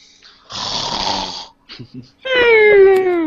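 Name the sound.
imitated snoring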